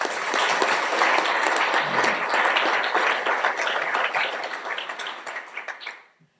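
An audience in a hall gives a sustained round of dense, steady applause that carries on for several seconds, then tapers and stops abruptly at the end.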